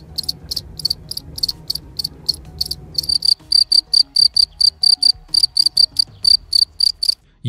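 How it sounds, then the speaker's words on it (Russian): Crickets chirp at night in a steady run of evenly spaced, close, bright pulses that speed into a tighter rhythm partway through, with a low background hum at first and no voices. "Если вам, конечно, не понравились ночные концерты, которые обычно устраивают сверчки."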